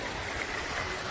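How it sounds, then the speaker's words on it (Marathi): Well water used for irrigation pours into a maize field in a brief, steady, close rushing flow. "भावानं पाणी चालू केलंय मक्याला."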